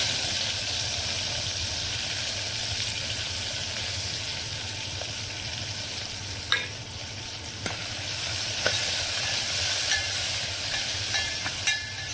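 Tomatoes and coriander frying in oil in a pan: a continuous bright sizzle and crackle, with occasional clinks and scrapes of stirring.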